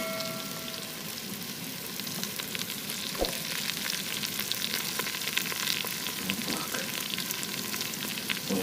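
Potatoes fry in oil in a pan over an outdoor riverside fire, a steady close sizzle with constant crackling and a few stirring clicks, no voices.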